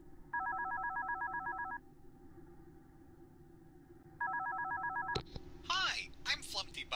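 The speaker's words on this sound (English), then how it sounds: "we got a phone call to ring in." Two bursts of a warbling electronic phone ring in the horror game One Night at Flumpty's, each lasting over a second with a pause between, over a low droning ambience, followed by a voice speaking.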